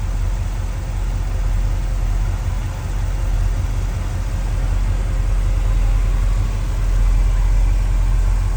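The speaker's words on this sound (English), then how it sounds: "you won't see a 455 run any smoother than this one" A 1970 Pontiac Bonneville 455 V8 idles smoothly and steadily in an engine bay, a continuous low rumble at close range with no talking.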